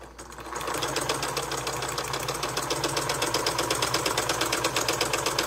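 A Singer 192K Spartan sewing machine stitches through double-thickness flannel, a rapid, even mechanical clatter and whir that starts up and runs steadily at close range without talk.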